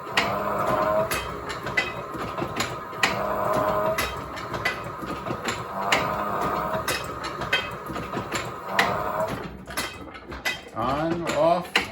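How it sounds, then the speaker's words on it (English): A motorized Chandler & Price 8 x 12 letterpress runs steadily with a rhythmic mechanical clatter, repeating clanks and rattles over a continuous motor hum, fairly close and sustained, with the cycle shifting near the end. "step on the pedal, the motor runs, and so does the press"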